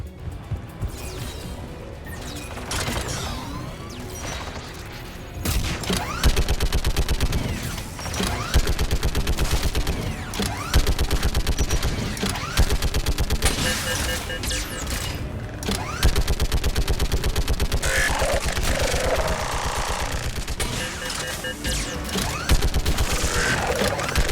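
Gunfire rattles almost nonstop in the Mass Effect 3 battle, a Geth turret firing rapid loud bursts with booms and crashes layered over heavy combat noise.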